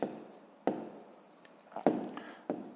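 A pen scratching on paper while writing out a fifth-grade maths exercise, in short close strokes broken by a few sharper taps and pauses.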